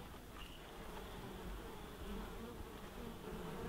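Wild honey bees inside a house wall make a continuous, dense buzzing hum, faint but steady throughout with no voices.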